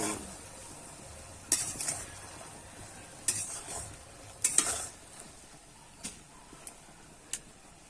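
Raw mango pickle being stirred with turmeric and chilli powder in a pan: a few sharp spoon-on-pan clinks and scrapes over a soft background hiss, spaced irregularly, close and moderately quiet.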